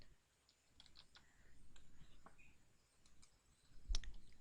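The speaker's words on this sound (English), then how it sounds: "we're going to type in first row and a colon, space after it, Liz Tyson," Keystrokes tapped on a computer keyboard, a quiet cluster of light clicks in irregular bursts, close by, ending in one sharper, louder key press.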